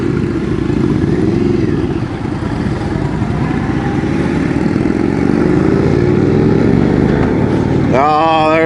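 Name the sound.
Indian motorcycle with ABS accelerating and braking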